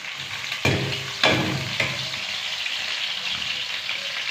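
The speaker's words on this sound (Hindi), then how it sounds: "इसके बाद मैं प्याज शामिल करूंगी।" Onions frying in oil for an egg and potato curry, a continuous close sizzle with three sharp spatula knocks against the pan early on.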